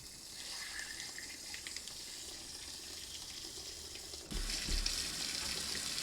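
Hot tap water runs steadily while an aquarium filter with a waterproof battery is rinsed under it, a continuous close splashing hiss that gets louder and heavier toward the end.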